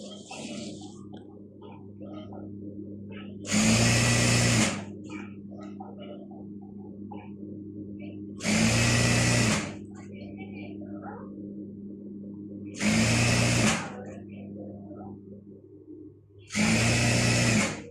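A sewing machine stitches a side seam on a burqa in four short loud bursts, each lasting about a second, separated by quieter stretches of low background hum.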